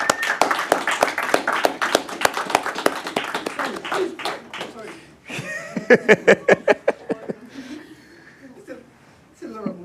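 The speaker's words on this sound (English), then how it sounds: "A round of applause for Dr." At a Glasgow business talk, the audience claps for Dr. Rotimi Alabi in scattered, uneven claps with a short run of sharper ones, while people keep talking over them.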